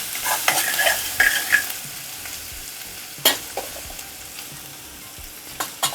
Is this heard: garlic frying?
yes